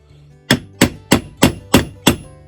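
Six evenly spaced, sharp metallic taps from a hammer striking a domed rivet setter ring out as rivets are set in leather shoulder straps for an Alaskan pack board, with a brief ring after each blow.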